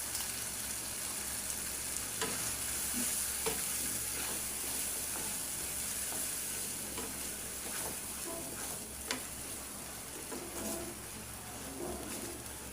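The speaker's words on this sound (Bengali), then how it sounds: "মশলা আমি ভালো করে কষায় নেব" Spice masala frying and being stirred in a pan for an egg korma, with bay leaves, ginger, garlic, onion and nut paste: a steady close sizzle with scattered scraping clicks of stirring throughout, no talk.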